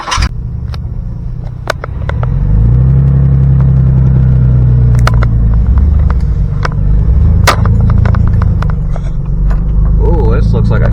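A pickup truck rolls slowly down a narrow off-road trail, its engine a steady low rumble that swells after a couple of seconds and holds close and loud, with faint ticks and rattles on top.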